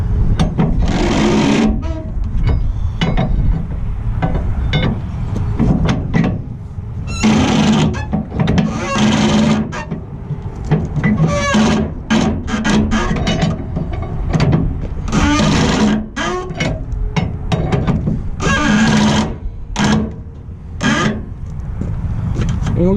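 A strap winch is cranked tight with a bar in short repeated bursts of ratcheting clicks and clatter, close and loud, with someone talking over parts of it.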